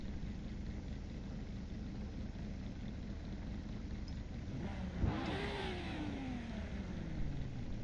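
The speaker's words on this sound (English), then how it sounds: "You hear the engines revving up" Race car engines in a sim racing game rev ahead of a Custom Tourer Championship start at Mid Ohio, a steady engine drone under a broadband roar, with one engine rising then falling in pitch midway through.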